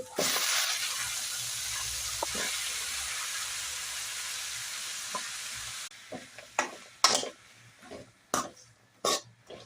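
Sambar onions and vegetables for sambar fry loudly in hot oil, a steady broadband sizzle for the first half, then breaking into repeated scraping stirs of a spoon in the pan, close and with no talking.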